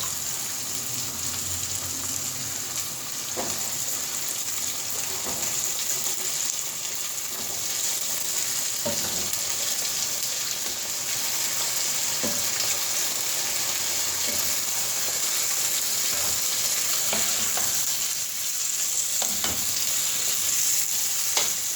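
Diced potatoes frying in a pan, a constant loud sizzle with intermittent scraping stirs of a spoon against the pan, close and steady, no talk.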